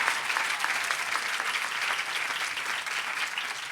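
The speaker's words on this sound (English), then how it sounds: "Give that lady a big round of applause." An audience at a lecture gathering in Mayapur applauds a lady, dense, even clapping that holds steady for several seconds without any voices.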